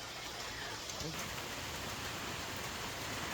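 Light drizzle falls outside a balcony as a faint, even hiss of rain that stays steady with no distinct drops or voices.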